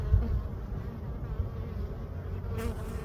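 Bees buzz around a hive in a close, dense low drone, a steady swarm hum with individual insects rising and fading nearby throughout.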